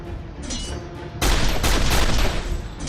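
Rapid gunfire in the video game Marvel: Avengers Alliance, starting with a softer rattle before a loud, dense volley of shots and impacts bursts in and continues, with no talking.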